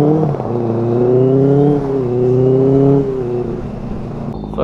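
Royal Enfield Bullet motorcycle overtaking in traffic, engine revving hard with a loud, rising then falling drone close by, easing off toward the end with no speech.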